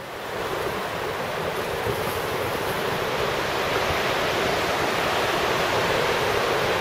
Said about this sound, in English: Water's really moving.